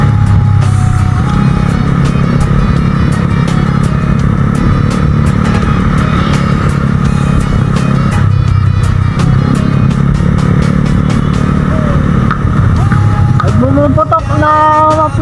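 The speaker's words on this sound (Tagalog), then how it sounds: "Bumuputok na muffler." Motorcycle with a popping muffler, ridden on the road toward Anilao, Mabini: a steady loud engine drone with wind, scattered sharp crackles and pops throughout, and rising rev tones near the end.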